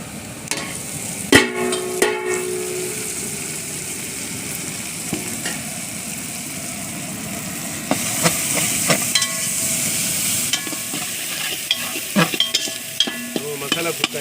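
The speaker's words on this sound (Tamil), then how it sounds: "ஆனியன் வந்து இந்த கண்டிஷனில் நமக்கு நல்லா ப்ரௌனாக வதங்கி வரும்போது நம்ம இதை ஆட் பண்ணிக்கலாம்" Onions fry in hot oil for Madras-style chicken biryani, a continuous loud sizzle and hiss with repeated scraping and clinking of a spoon stirring the pan, close and without talk.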